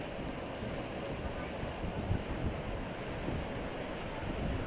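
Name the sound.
flooded Doodh Ganga river water rushing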